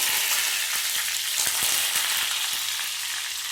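Curry leaves crackle and fry in hot oil with popping mustard seeds for an arai keerai kadayal, a dense, loud, continuous sizzle with scattered sharp pops throughout, close and without speech.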